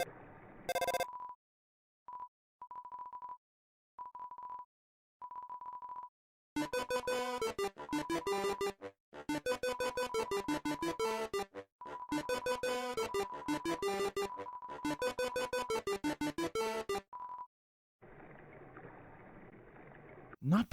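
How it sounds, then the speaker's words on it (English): A mysterious in-game phone call from the river person area in the Undertale video game: a few short ringing bursts, then a long stretch of dense, garbled tonal chatter broken by pauses, ending in a hiss. "the player can, upon entering the river person area, be met with a mysterious phone call"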